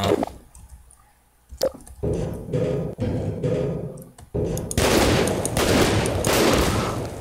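Shotgun blasts and gunfire in a tactical combat video game, a burst of loud sharp shots followed by sustained dense firing and explosive noise near the listener, with no talk over it.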